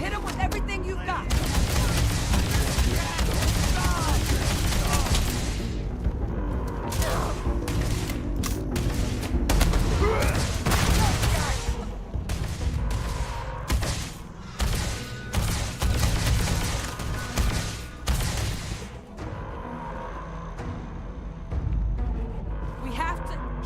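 Firefight in the video game Starfield: dense bursts of rapid gunfire and heavy thuds pound almost continuously, loud and close, with a brief lull near the end and voices talking over the shooting.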